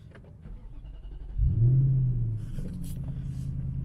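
An Infiniti M45 with a modified exhaust pulls away, its deep engine rumble swelling and then settling into a steady, close drone.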